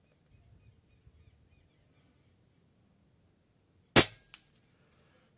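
One sharp PCP air rifle shot firing a 25-grain slug at a 60-metre target cracks out of near silence, followed by a quick faint metallic echo or impact.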